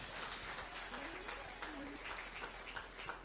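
A church crusade audience in Ngaoundéré applauds and cheers for Jesus Christ, a dense, steady wash of clapping from a crowd lasting throughout, with scattered voices mixed in.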